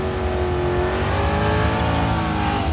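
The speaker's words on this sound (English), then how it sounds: "finally got a burnout from Ben here" A drag race car's engine roars loudly at the track during a burnout, sustained high revving rising slightly in pitch, close and continuous throughout.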